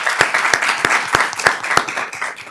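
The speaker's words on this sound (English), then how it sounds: "I give you all a great round of applause because you've done a great job." Applause from a school board meeting audience, with distinct sharp claps standing out in a steady rhythm over a dense patter of clapping hands, fairly close and loud, gradually thinning toward the end.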